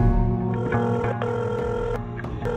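A telephone rings loudly and close after a number is dialed, with repeated bell-like trills that continue without a break and no voices over them.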